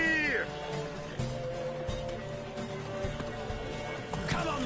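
Horse galloping in a Witcher video game race, rhythmic hoofbeats under a voice and other game sounds, fairly close.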